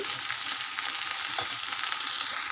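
Tomato pieces fry in a pan while being stirred, a loud close sizzle with a dense crackle and soft scraping strokes that runs continuously, with no voices.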